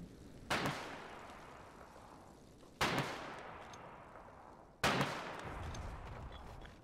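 Three sharp gunshots ring out in the war game Foxhole, spaced about two seconds apart, each a crisp crack trailing into a fading echo over quiet background.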